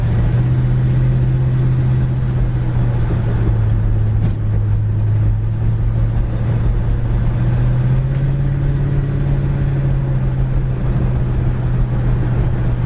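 A 1967 Oldsmobile Cutlass convertible engine hums steadily while driving down the road, a smooth continuous drone with slight swells in pitch, loud and close throughout.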